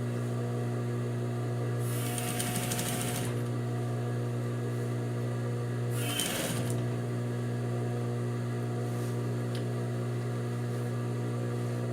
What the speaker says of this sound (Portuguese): Encostei o pé da máquina na borda do tecido.